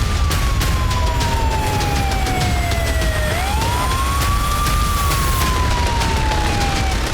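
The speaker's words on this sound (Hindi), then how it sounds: "जिसके बाद पूरे मॉस्को में सायरन बज उठे।" Air raid sirens wail across Moscow, a loud, steady rising and falling tone over constant background rumble, with a second siren faintly overlapping.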